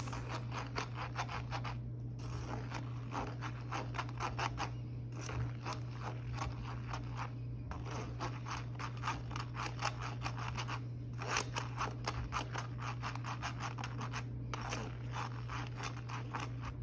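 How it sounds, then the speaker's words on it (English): A spoon scrapes dry baking ingredients through a metal sifter, producing a steady, close, rapid gritty scratching that keeps going with only brief pauses over a low constant hum. "I use a spoon to push the ingredients through the sifter"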